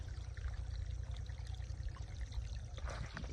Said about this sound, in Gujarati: હવે આ પાણીમાં ધોઈ નાખીએ મસ્તીના